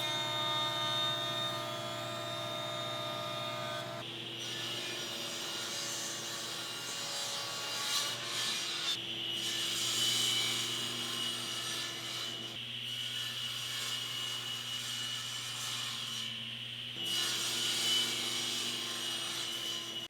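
A jointer squares the edge of cherry lumber, a steady machine hum with whooshing passes of the cutterhead as the board feeds across, several distinct rising and falling passes over a continuous drone.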